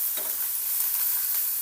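Ginger, garlic and curry leaves sizzling and frying steadily in a hot pan, a continuous bright crackle with faint stirring, no voices.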